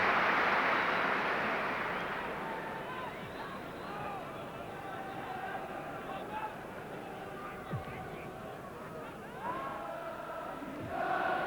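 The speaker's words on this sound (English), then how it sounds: "Applause once again for Maurice Johnston" A stadium crowd at a Rangers versus Tottenham Hotspur pre-season friendly in 1989 roars and applauds Maurice Johnston, a broad swelling noise that eases into a sustained hubbub.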